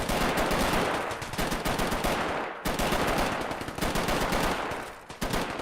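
Automatic fire from an MG micro unit in a modded real-time strategy 1v1 tournament match, loud sustained machine gun bursts with only one brief gap, filling the whole stretch.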